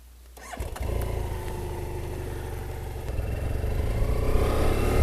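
A motorcycle engine starts and revs up, then pulls away and keeps running steadily and close on the Old Hedley Road, an old stagecoach road in British Columbia, with no talk over it.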